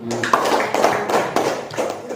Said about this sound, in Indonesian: Tepuk tangan untuk kelompok 3